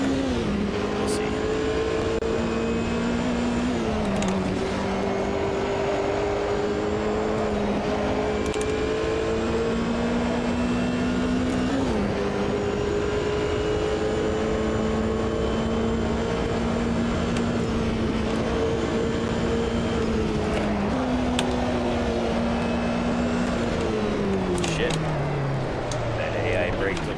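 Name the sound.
car engine lapping the Green Hell track in a racing game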